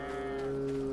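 A cow moos in the farming game Farming Simulator 22, a steady, droning low call held for about a second, close and alone with no talk.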